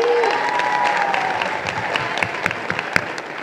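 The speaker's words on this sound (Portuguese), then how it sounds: "Também quero uma salva de palmas para ela." Audience applause at a community youth gathering in Heliópolis, São Paulo, a steady dense wash of many hands clapping throughout, with a few sharper claps standing out near the end.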